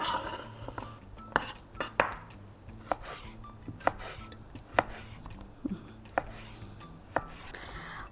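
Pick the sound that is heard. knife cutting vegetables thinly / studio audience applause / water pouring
knife cutting vegetables thinly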